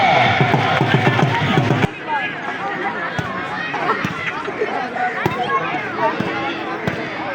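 Crowd applause at an outdoor gathering, loud and dense for about two seconds, then dropping to a busy babble of chatter with occasional sharp thumps.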